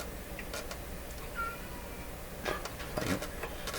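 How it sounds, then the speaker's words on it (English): A domestic cat meows in a room where an old 1925 radio receiver is being worked on, giving a few short, moderately near calls over a steady background hiss, with a couple of sharper bursts toward the end. "that's my other cat"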